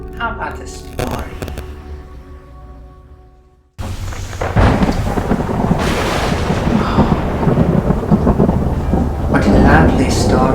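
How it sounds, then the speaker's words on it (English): A thunderstorm opens a spooky horror story night: heavy, steady rain and rumbling thunder fill the scene loudly after a quieter first few seconds, with a voice speaking over the storm. "What a lovely storm tonight."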